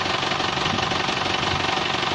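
The engine of an Isuzu Panther car revs as the throttle is pressed, a loud, rough, steady diesel-like drone with a rapid knocking pulse, heard close up.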